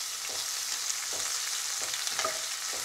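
Spices, chana dal and thin-sliced onion with a pinch of asafoetida fry in oil, a steady bright sizzle broken by a few soft stirring scrapes, close and continuous.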